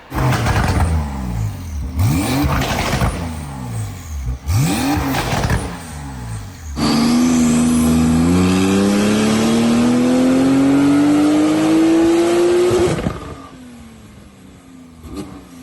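A tuned 1150 bhp Porsche 992 Turbo S with a Capristo exhaust revs sharply several times, then pulls up in a long, loud rising acceleration before easing off, close and dominant.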